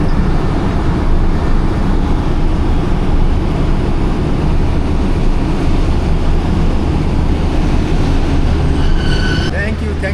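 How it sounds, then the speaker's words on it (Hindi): The 40 Down Jaffar Express approaches Gujranwala railway station, a steady, loud rumble of train and rolling wagons that holds throughout, with a few brief higher squeals near the end. "गुजरांवाला रेलवे स्टेशन पे अप्रोच बना रही है हमारी 40 डाउन"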